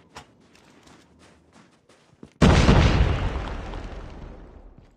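A frag grenade bursts in a Call of Duty match. A sharp, loud blast follows a few faint footsteps and clicks, then a roaring tail decays over two seconds.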